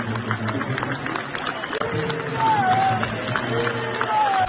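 A stadium crowd at St James' Park, Newcastle, applauds a heroic doctor who saved a supporter's life, with sustained broadband clapping and crowd noise, some distant shouts, and brief whistle-like tones over the din.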